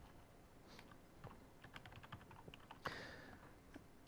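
Fingers type quickly on a computer keyboard while logging in to a Windows Embedded retail machine, giving a fast, irregular patter of light key clicks with one sharper tap near the end, fairly quiet and close.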